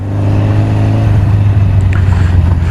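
A Honda 750 Four motorcycle with a 750 cc inline-four engine runs at a steady idle, its low, even throb constant and close throughout, with no talk.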